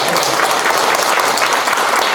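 A church congregation applauding, a dense, steady roar of clapping that stays loud and unbroken from start to finish.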